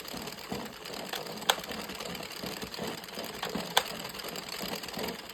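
Addi 22 knitting machine working rows of a braided scarf, a soft continuous whirring clatter with small rhythmic clicks and a couple of sharper ticks, quiet and close.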